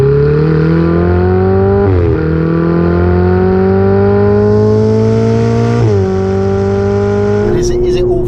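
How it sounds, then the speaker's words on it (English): A Ferrari 488 GTB engine revs loudly up and down through several rising sweeps, with sharp exhaust pops and crackles at the end, close and continuous. "A couple of pops and bangs"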